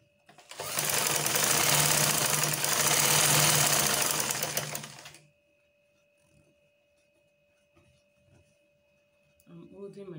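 A sewing machine runs in one loud continuous burst of about five seconds while stitching along a curve on a shift dress, then stops, leaving a faint hum and soft handling sounds.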